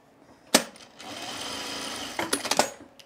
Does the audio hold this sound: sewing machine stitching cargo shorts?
yes